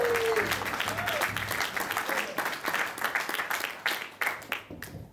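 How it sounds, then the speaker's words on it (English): Audience applause at a jazz club gig for a tenor saxophonist, steady clapping running through the whole stretch with a few sharper individual claps near the end, a brief tonal whistle or vocal sweep early on. "About a wonderful, wonderful round of applause,"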